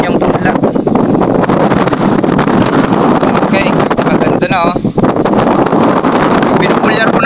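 Strong wind blowing steadily across a rice seedling field, loud and buffeting the microphone throughout, with a person talking under it.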